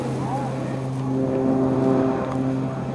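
An aerobatic airplane engine holds a steady, buzzing drone during a torque roll, with its pitch swelling slightly midway as the aircraft hangs and spins.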